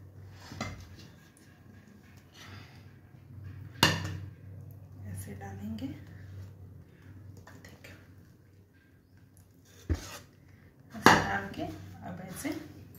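A spoon stirs sesame ladoo mixture into hot sugar syrup in a pan, making intermittent metallic clanks and scrapes, with a few sharp knocks against the rim, close by and under a murmuring voice.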